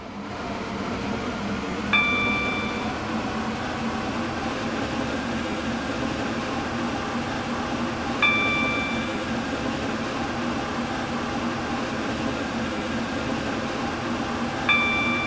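Steady interior rumble and hum of a Class 357 Electrostar train running in Roblox Stepford County Railway on a Stepford Connect service, with three short, evenly spaced electronic chimes riding over the constant drone.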